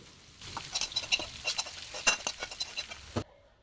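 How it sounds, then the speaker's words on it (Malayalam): Masala sautéing in oil left over from frying pearl spot fish gives a close, bright sizzle punctuated by quick clattering stirs of a spoon against the pan, and it cuts off abruptly to silence near the end. "ഇനി നമുക്ക് ആ എണ്ണയിൽ ഈ മസാല ഒന്ന് വഴറ്റിയെടുക്കാം"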